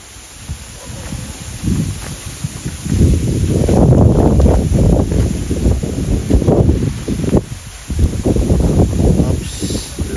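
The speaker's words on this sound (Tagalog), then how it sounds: "lakas ng hangin. May kasamang ambon." Strong gusts roar across an open farm field on a hillside, buffeting the microphone with heavy low rumbling wind noise that swells and eases in waves, loud and close, with no talking.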